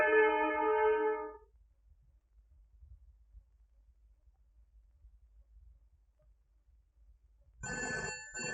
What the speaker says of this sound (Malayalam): Phone phone phone phone.